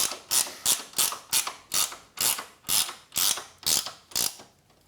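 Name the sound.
ratchet tightening coilover top mount bolts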